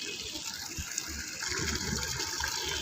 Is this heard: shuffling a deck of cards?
no